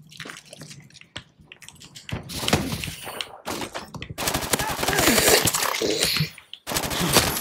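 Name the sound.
gunfire in a video game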